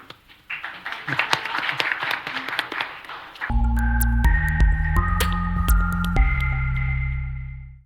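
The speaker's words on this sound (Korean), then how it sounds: "박수 한번 보내주십시오." Audience applause at an academic debate forum during a voter politics festival: a dense patter of clapping fills the first few seconds, then cuts to steady, loud tonal chimes and music that fade out at the end.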